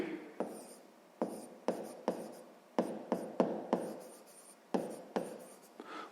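A pencil writes on paper in a run of short, distinct scratchy strokes, each starting with a crisp attack and trailing off, set close and alone with no talk over it.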